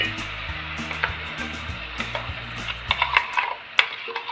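Ground masala paste goes into a pan of onion-leaf curry, giving soft scraping and stirring with a few light clinks of a spoon against the pan over a low steady hum, close by.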